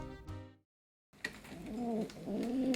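A pigeon coos in soft, low repeated phrases close by, rising and falling over a faint outdoor background after a brief silence, with no voices.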